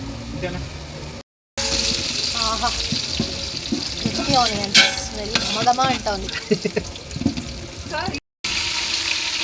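Biryani sizzles and frys in a pan while being stirred, with steady scraping and clinking stirs over a constant sizzle; someone talks throughout, and the sound briefly cuts out twice.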